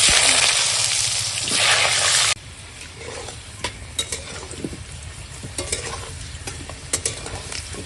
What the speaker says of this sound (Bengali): তো এখন সব আলুগুলো ভেজে নেব।